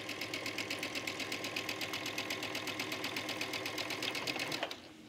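Sewing machine stitching the under collar center back seam of a trench coat, a loud, close, steady rapid needle chatter that runs evenly for about four and a half seconds, then stops abruptly.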